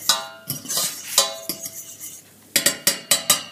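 Utensil scraping and clinking against a pan on the stove as a white roux of flour and butter is cooked and stirred, with repeated close metallic scrapes and knocks in quick bursts and no voices.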